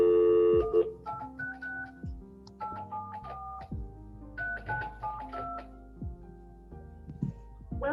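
Telephone keypad tones dialing a phone interpreter service from a courtroom, a run of distinct beeps in irregular rhythm with short gaps, clear and close over a quiet background.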